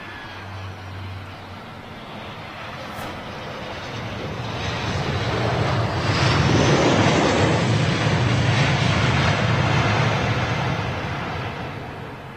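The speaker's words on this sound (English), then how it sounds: "So this is looks like Aer Lingus on approach." An Aer Lingus airliner on approach to Heathrow Airport roars past, swelling from a distant rumble to a broad, loud jet noise at its peak and then slowly easing off. No one speaks.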